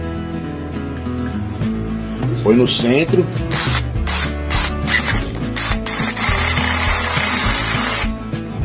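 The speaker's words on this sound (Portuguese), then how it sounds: "Aí eu venho com a furadeira aqui" A power drill whirs in short, uneven bursts against metal pipe, with clattering and a person speaking briefly nearby.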